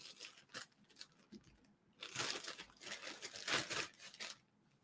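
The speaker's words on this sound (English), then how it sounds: "I picked the dullest pair of scissors to try to open this thing up" A package is cut open with dull scissors, giving scattered close snips and crinkles followed by louder bursts of tearing and rustling, faint overall with no talk.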